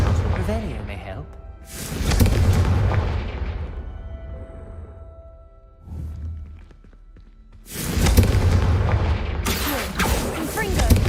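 Blasting explosions from the Confringo spell in Hogwarts Legacy: a heavy boom with a long rumbling tail, a quieter thud midway, then two more loud bursts close together near the end.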